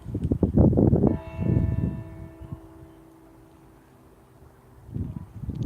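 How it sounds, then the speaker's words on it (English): A church bell tolls with long ringing overtones that fade slowly, while a few voices talk and laugh nearby before and after, in St Mary's churchyard in Whitby. "Let's let these bells ring out and I'll finish the story."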